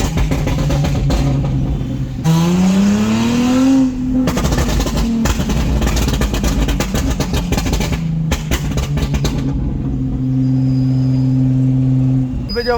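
A Toyota Mark X engine revs up close and loud, its pitch climbing steadily before dropping back, then holding a steady drone and rising again over a constant rumble.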